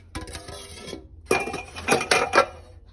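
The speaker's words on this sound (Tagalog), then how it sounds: "samahan nyo naman ako maghugas ng pinggan" Dishes, pots and pans clink and clatter in a sink during washing, with two bursts of sharp metallic and ceramic knocks separated by a brief pause.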